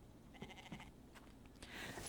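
A sheep in a farming video game gives a short series of wavering bleats, faint and close, followed by a brief rustle of game sounds, with no talking.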